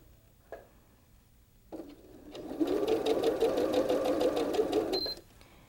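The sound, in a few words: sewing machine stitching quilt block fabric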